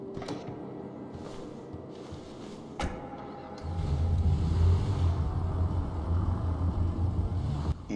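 A car drives in Grand Theft Auto V, its engine giving a steady low hum that swells into a louder, heavier rumble partway through, with no voices.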